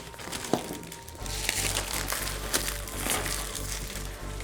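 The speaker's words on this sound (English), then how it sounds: "Let's take off all this wrapping." Plastic wrapping being pulled off a boxed liquid cooler, with close crinkling and crackling bursts over a low rumbling background, steady and fairly quiet throughout.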